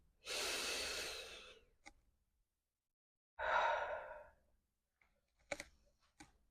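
Slow, deep mindful breathing exercise: a long audible inhale, a pause, then a long breathy exhale, with faint clicks between breaths in a quiet room.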